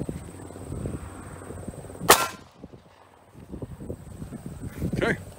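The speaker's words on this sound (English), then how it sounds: "so now we're going to shoot the 9x19 Luger out of a Luger at it." A single sharp, loud 9x19 Luger pistol shot rings out outdoors as the round strikes an Italian M33 steel helmet, a sudden crack amid steady wind noise, with people talking before and after.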